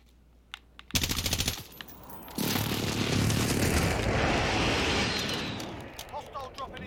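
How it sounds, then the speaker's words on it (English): A precision airstrike in the video game Call of Duty Warzone: a quick rattling burst of gunfire, then a loud, sustained roaring blast that swells and rumbles for several seconds before slowly fading. "Friendly precision airstrike inbound."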